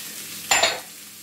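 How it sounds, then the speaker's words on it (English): Chopped onions and celery hit melted butter in a pan, giving a brief, close burst of sizzling and stirring that fades to a low, steady fry. "I'm going to cook that now for about 5 minutes until the onions start to turn a nice golden brown."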